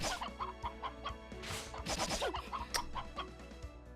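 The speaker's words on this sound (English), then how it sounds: "Chicken sounds." Chickens cluck and squawk in a busy, overlapping flurry in the video game Fate/Grand Order, with repeated short bursts and a scratchy, clattering texture throughout.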